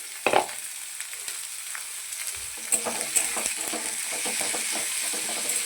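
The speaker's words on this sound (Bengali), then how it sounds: "এটাকে একটু ভালো করে ভাজা করে নিয়ে তারপর সবজিগুলোকে দিয়ে দেবো।" Vegetables with onion, green chilli and curry leaves stir-frying in a pan: a soft steady hiss broken by a loud clatter at the start and then rhythmic scraping stirs, close and unaccompanied by talk.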